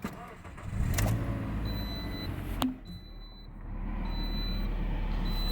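Toyota Corolla with a 1.8 engine and four-speed transmission, running just after start-up: a steady low engine hum with a sharp click partway through. Faint beeping and background noise sit alongside it.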